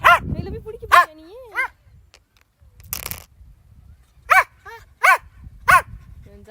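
A playful dog barks several times in short bursts, with some whimpering yips mixed in, while a person talks and calls encouragement around it.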